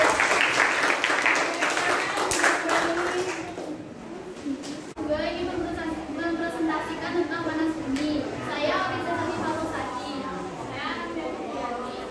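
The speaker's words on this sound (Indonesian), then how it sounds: "Oke, beri tepuk tangan untuk kelompok 1." Classroom applause for group 1 by students, with a burst of clapping fading within about four seconds, followed by children's voices talking and chanting together for the remaining time.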